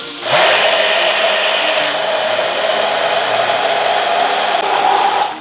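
An electric blender whirs steadily for about five seconds, premixing a burger sauce with vegetable oil. It gives a loud, constant high-pitched motor drone that starts and stops abruptly.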